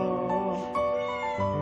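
A house cat meows in drawn-out, whiny tones several times in a row, close and clear, with a person talking over it at moments.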